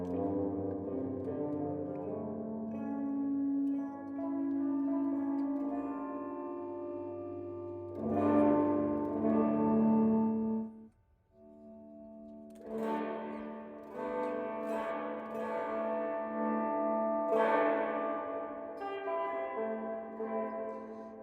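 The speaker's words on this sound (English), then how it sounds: "It's a dual tank reverb unit with a bright reverb, short decay, long reverb, and dark reverb, long decay." Sustained tones pass through a dual-tank stereo reverb unit set to bright short decay and dark long decay. Washes of reverb swell and tail off, with a brief near-silent gap partway through and no talking.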